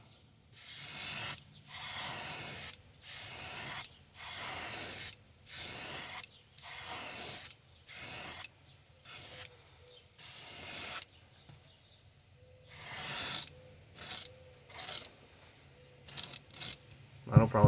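An airbrush with low air pressure sprays paint onto a wooden jointed wake bait, making a series of sharp, hissing bursts of about a second each, close and loud, separated by short silences.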